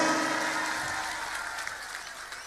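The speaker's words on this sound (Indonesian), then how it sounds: "Tepuk tangan tuh Hercules" Audience applause at a religious lecture gathering as a guest named Hercules is introduced, a steady wash of clapping that fades gradually from loud to softer.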